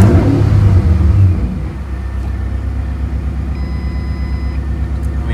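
An older car's engine, one with a blown motor, running loud and close: a heavy rumbling roar that is strongest in the first second, then settles into a steady, slightly lower drone with a faint whine.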